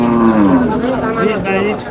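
A cow at a rural cattle market in Naogaon lets out a loud, drawn-out moo close by that lasts about two seconds.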